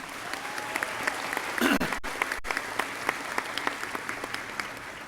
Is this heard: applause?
yes